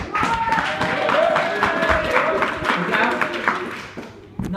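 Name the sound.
audience clapping like football applause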